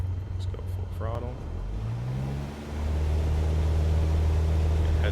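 Aircraft engine in Microsoft Flight Simulator throttled up to full power for takeoff, a steady low drone that rises in pitch and swells louder midway, then holds a strong sustained roar; a voice speaks briefly near the start.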